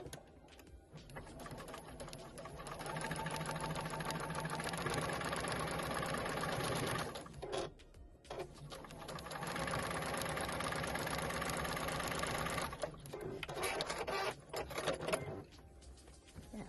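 Sewing machine stitching homespun fabric pieces for Easter decorations, a long steady motor whir for about seven seconds, a short pause, then another long run and a shorter burst at the end, close and even.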